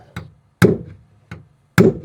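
A hammer taps metal to mark a drill spot while installing a 7-pin trailer harness on a Ford F350, four sharp close knocks in an uneven rhythm.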